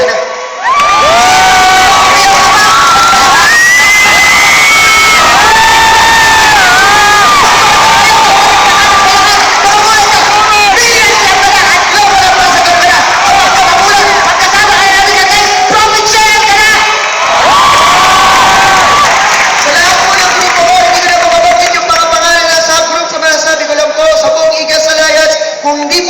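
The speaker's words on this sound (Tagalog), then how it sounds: "Kung distributor ka ngayon, humiyaw ka, pumalakpak ka" A large crowd at a company profit-sharing award ceremony shouts and cheers loudly and continuously, with whoops and high excited voices rising and falling throughout, plus some scattered clapping.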